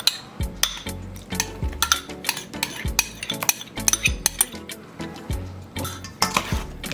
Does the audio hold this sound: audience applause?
no